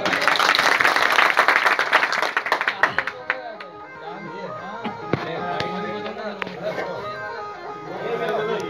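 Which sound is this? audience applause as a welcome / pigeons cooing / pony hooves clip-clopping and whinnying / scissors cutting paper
audience applause as a welcome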